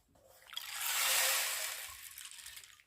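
A 30 cm stream-sound rain stick tilted once, its beads pouring through in a smooth rushing hiss that swells and fades over about two seconds, close and alone.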